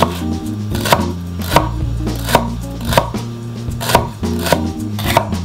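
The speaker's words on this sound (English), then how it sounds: "Now we're doing celery and I'm cutting it by hand" Celery chopped by hand with a knife on a cutting board: loud, close, evenly spaced thuds, about ten sharp strikes in steady rhythm with no talking.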